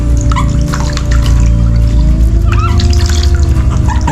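Water runs steadily and loudly from a tap or hose during a first bath for pets indoors, a continuous close splashing flow with no break.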